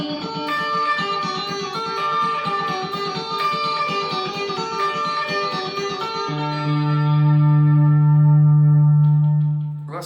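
An electric guitar plays a chiming, repeating pattern drenched in delay echoes, then settles into a long sustained low note ringing out with heavy reverb, alone and loud.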